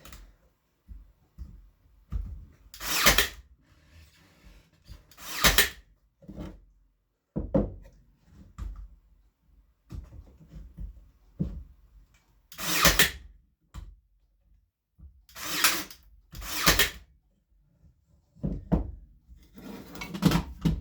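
Sharp, irregular bursts of hammering nails into pallet wood, with loud strikes in clusters separated by quiet pauses and fainter knocks between them.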